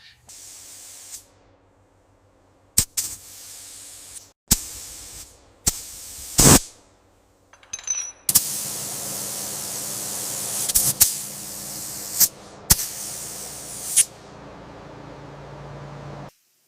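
Spray coating hissing onto the flat body panels of a 1977 Mercedes-Benz T1 308D van in a series of sharp bursts and longer sustained passes, loud and close, with short silent pauses between strokes.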